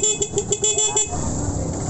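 A Honda Supremo motorcycle horn, working again after a battery charging fault, honks in a rapid series of short, loud toots close by, then a steadier buzzing tone follows.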